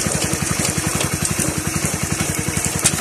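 Kawasaki Bajaj CT 100 motorcycle engine running on a stand after a rebuild, a steady rapid low throb with a crackly exhaust edge while it is shifted through the gears, loud and close with no talk.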